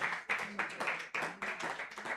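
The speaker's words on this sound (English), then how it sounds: "Please keep clapping for him." Audience clapping to welcome a speaker at an inclusive development event, a faint, fairly small round of hands heard from a distance with uneven pulses, continuing steadily for a couple of seconds.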